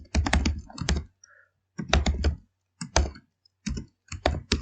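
Quick bursts of typing on a computer keyboard while a C program is entered, clusters of crisp key clicks separated by brief silences.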